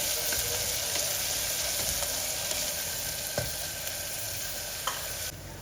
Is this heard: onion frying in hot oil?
yes